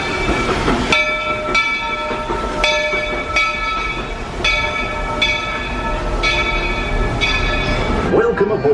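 A steam train of the Walt Disney World Railroad at Magic Kingdom rolls along the rails with rhythmic clicking and a steady rumble, close by, with faint voices mixed in beneath the noise.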